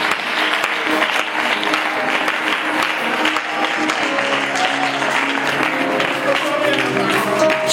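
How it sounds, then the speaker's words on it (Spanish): Audience applause during a church service held in a theatre, dense continuous clapping from a crowd, loud and sustained with faint voices mixed in. "Pues le damos un fuerte aplauso a Dios."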